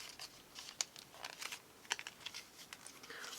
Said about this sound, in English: Why can't I get anything out of its packaging?